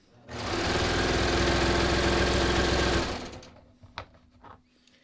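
A serger sewing machine chains off at full speed, a dense rapid mechanical chatter lasting about three seconds before winding down to a few soft clicks and handling noises.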